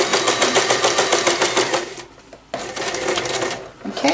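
A sewing machine back stitches through face wipe fabric in rapid, even needle chatter that stops briefly then resumes, close and loud.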